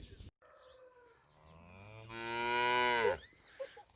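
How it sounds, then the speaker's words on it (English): Jersey calf mooing close by, one long drawn-out moo that rises in strength and then cuts off, with a brief click and some quiet handling noise before and after. "Grace, do you love the moo-moos?"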